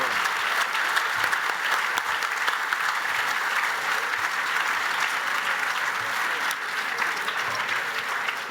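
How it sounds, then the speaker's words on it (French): Dense, sustained audience applause fills a conference hall at an international forum, holding steady and fairly loud throughout with no voices over it. "Je vous propose qu'on les applaudisse tout spécialement"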